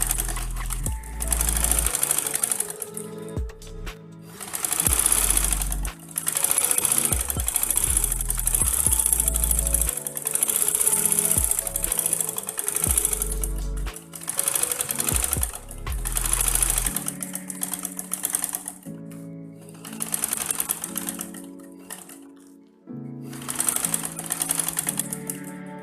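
A sewing machine stitching a songket skirt runs in loud, rapid mechanical bursts, stopping and starting repeatedly with short pauses between stitching runs, close and clear.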